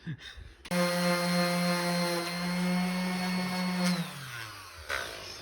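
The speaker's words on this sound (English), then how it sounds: "We are sanding down some of these shields so we can repaint them" A steady, loud motorized whine with a droning tone runs for several seconds as a power sander works on prop shields, then winds down near the end.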